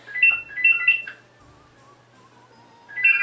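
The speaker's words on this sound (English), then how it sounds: "The phone never rings." A telephone rings with a bright warbling electronic tone, two bursts of chirps, a quiet gap, then the ring starting again, close and clear with no talk.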